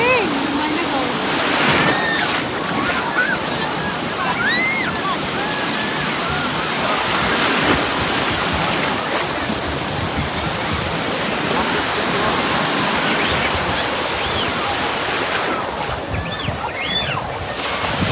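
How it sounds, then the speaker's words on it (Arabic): Sea waves break and wash steadily at Ras El Bar beach in Egypt, a loud, continuous surf roar filling the scene, with faint voices and distant shouts drifting in over the water. "يا رب الموجة عالية"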